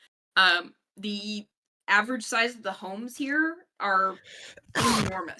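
A single sharp sneeze bursts out near the end, close and loud, following several stretches of someone talking.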